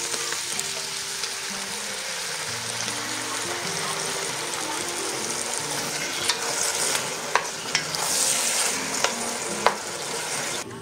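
Tomato paste being stirred into a hot pan of frying food while making stuffed cabbage rolls, a steady sizzle with scraping spoon strokes and a few sharp clinks near the end.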